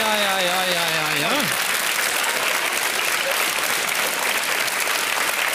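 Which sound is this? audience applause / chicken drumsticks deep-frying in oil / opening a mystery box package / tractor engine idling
audience applause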